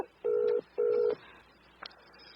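Two long, identical phone ringback tones from a cellphone on speaker, evenly spaced and loud, followed by a faint click.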